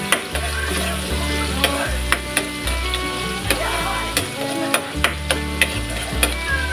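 Garlic sautéing in reused frying oil in a pan, stirred with repeated sharp scraping and tapping strokes over a steady sizzle, close and fairly loud, with a low background hum.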